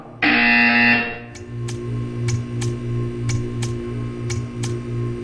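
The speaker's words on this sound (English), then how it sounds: "You will hear a buzzer." A single loud, sustained electronic buzzer sounds for about a second in the video game Portal 2, then cuts off, leaving a low steady hum with faint periodic clicks.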